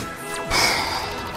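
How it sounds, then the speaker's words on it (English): A sharp burst like a cartoonish explosion pops up over a steady background of game music and noise, with a brief rising whistle just before. "he just sees my score and his head, boom, explodes"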